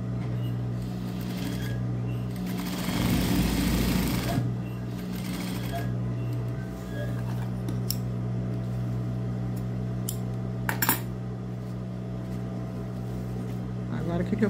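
Sewing machine running steadily while stitching a seam on a welt pocket with two piping strips, a continuous mechanical hum at close range with a louder burst early on.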